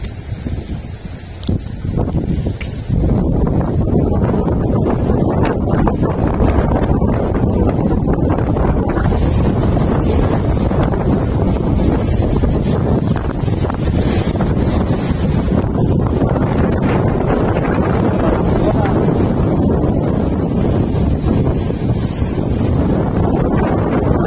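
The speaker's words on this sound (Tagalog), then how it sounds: "Lakas din ang hangin kahit na tapunan nitong ano." Strong wind at a seaside fishing spot roars and buffets the microphone continuously, a loud broadband rush with a watery, surf-like wash beneath it and no talking.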